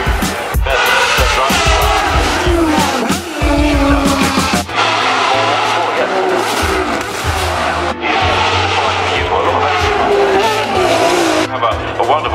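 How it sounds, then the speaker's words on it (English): Supercars racing past at the Goodwood Festival of Speed hill climb, loud engines roaring and revving in repeated bursts with tyre squeal, close by, with crowd noise and voices around them. "So the next cars up are the supercars, which I'm really, really looking forward to."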